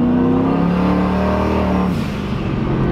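A race car driven by a landlord revs hard and accelerates, its loud, close engine note climbing steadily before dropping away as it shifts or backs off near the end.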